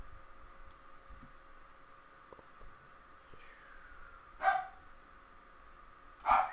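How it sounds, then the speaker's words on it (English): A dog barks twice in a Minecraft-style game, two short, moderately loud barks set apart by a couple of seconds over a quiet background. "Shut up, dog."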